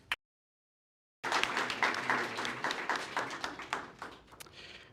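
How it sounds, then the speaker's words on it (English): Audience at a product meetup breaking into applause after a brief silence, a burst of many hands clapping that builds quickly and then gradually thins out, fairly quiet and distant. "a big round of applause for each and every one of us"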